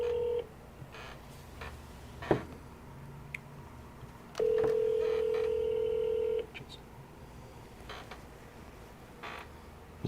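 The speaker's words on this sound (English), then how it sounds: "Let me know if you guys can hear the phone too." Telephone call tones: a sharp click near the start, then a steady, loud single-pitch tone holding for about two seconds in the middle over a low line hiss, with faint clicks around it and no talk.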